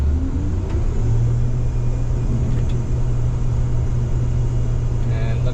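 A combine harvester engine runs up to high idle, a loud, steady low rumble with a constant droning tone that holds throughout, with no voices over it.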